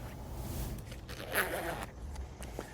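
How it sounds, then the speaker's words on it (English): A zipper on a boat mooring cover storage bag being zipped closed, a short close ripping run that swells in the middle and then trails off into quieter tugs. "I always recommend re-zipping your bag closed."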